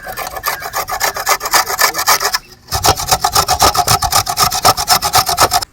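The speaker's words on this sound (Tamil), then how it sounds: "கேரட் வந்து தோல் சீவி வச்சுக்கலாம்" A carrot is scraped with a peeler in a village kitchen, a steady run of quick rhythmic rasping strokes, close and fairly loud, with one brief pause midway.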